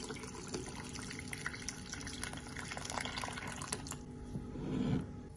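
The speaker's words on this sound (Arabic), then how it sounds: "بحط فوق المي وبسلقهم على الغاز" Water pours from a tap onto washed potatoes in a cooking pot, a continuous splashing stream that swells louder near the end, close by, with no talking.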